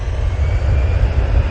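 An Easyjet Airbus A320 at Manchester Airport gives off a steady, loud, low engine roar with a broad rushing hiss and no talking.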